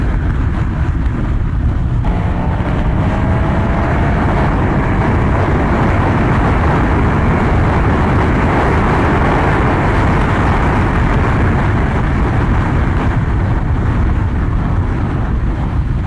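An 1103cc motorcycle engine roars steadily at speed, a loud, continuous drone mixed with heavy wind buffeting across the whole ride.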